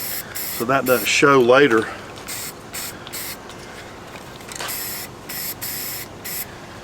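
Short hissing bursts of spray paint coat an E-11 Stormtrooper blaster replica, several close puffs with gaps between them, while someone talks briefly at the start.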